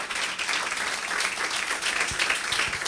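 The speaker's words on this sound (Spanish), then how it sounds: "Un aplauso fuerte a Jesús" A church congregation standing to give loud applause to Jesus, a dense, sustained roar of many clapping hands filling the room, steady and close throughout.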